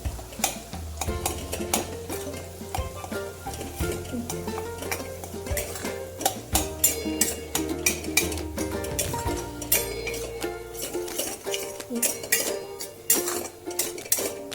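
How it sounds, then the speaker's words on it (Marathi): Ground masala paste sautéing in oil for a tilapia fish curry, with a low sizzle under repeated scraping and clinking of a spoon against the pan throughout. "वाटण चांगले तेलात परतून घ्यायचे आहे"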